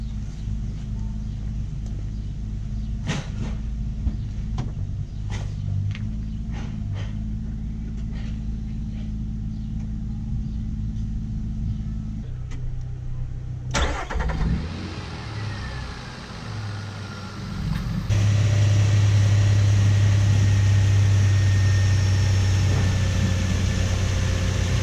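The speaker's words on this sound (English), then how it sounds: "So I'm going to let the engine run for about 10 minutes or so." A car engine idles steadily after an oil change, a constant low rumble heard close up throughout, with a few clicks and a brief change in tone partway, then a louder, stronger hum toward the end.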